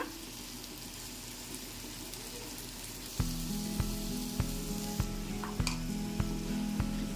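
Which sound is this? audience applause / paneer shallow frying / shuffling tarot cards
paneer shallow frying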